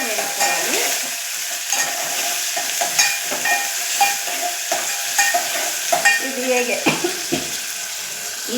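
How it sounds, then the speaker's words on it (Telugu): Onions, curry leaves and green chillies fry in a pan for homemade dosa accompaniment, a steady close sizzle broken by repeated scraping stirs, with faint background sounds and no talk. "ఆనియన్స్, కొంచెం కరివేపాకు ఫ్లేవర్ కోసం, తర్వాత పచ్చిమిర్చి అన్నీ వేసి కొంచెం కలర్ వచ్చే వరకు వేసుకోవాలి."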